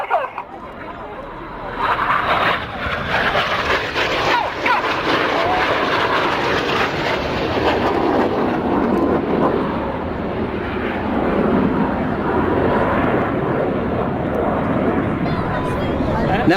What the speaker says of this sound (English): watch the synchro pair descend to just 100 feet, ready to perform the opposition barrel roll